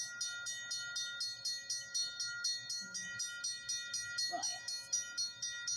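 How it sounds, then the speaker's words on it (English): A CBS train rolls past with a steady, rhythmic clatter and sustained ringing tones over a low rumble, fairly close and continuous; a person speaks briefly partway through. "There goes the CBS train."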